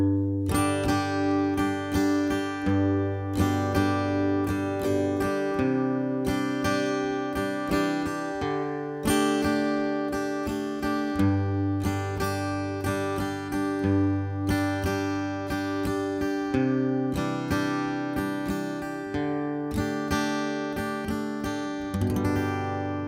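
Guitar song played as a steady strummed chord pattern with a regular rhythm, full and close throughout, alone without talk.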